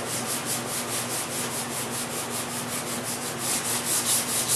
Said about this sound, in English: Keep sanding a little bit to get it out.